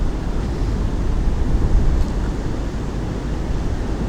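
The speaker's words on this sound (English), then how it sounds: "its wind is horrendous" Strong wind buffets the microphone on a canal bank during short pole fishing at Pocklington canal, a constant loud low rumble that swells slightly midway and carries no other sound.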